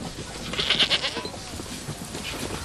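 Goats working as pack animals carrying bricks for construction of China's Great Wall bleat amid a busy outdoor herd, short wavering calls over a noisy background.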